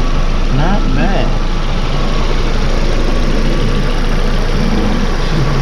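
A 2001 Infiniti G20 engine idles steadily after a rebuild, a loud, continuous low hum up close with a faint background voice.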